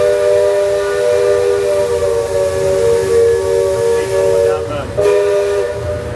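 The Liberty Belle riverboat's steam whistle at Magic Kingdom's Frontierland gives a long, loud, steady tonal blast over crowd ambience. It breaks off briefly near the end before sounding again.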